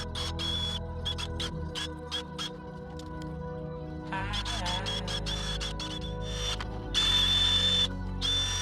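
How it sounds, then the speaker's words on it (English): A wire wheel spun by a power drill scrubs storage oil off a brake rotor in short, separated bursts of whirring and scraping, with pauses between passes and a louder burst near the end. "The wire brush, wire wheel deal, and I'm just gonna clean this off."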